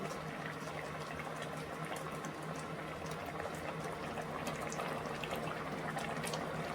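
A fish curry broth with eggplant simmers at a rolling boil, giving an even, continuous bubbling and popping at close range, with no speech.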